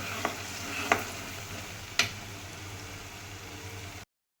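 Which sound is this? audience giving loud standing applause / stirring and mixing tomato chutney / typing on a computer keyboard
stirring and mixing tomato chutney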